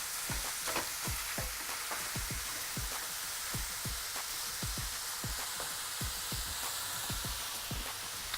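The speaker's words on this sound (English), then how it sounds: "we're first gonna start by cooking the meat" Meat for spaghetti sauce frying in a pan, a steady soft sizzle broken by repeated sharp scraping and stirring clicks at a regular pace, quiet with no voices.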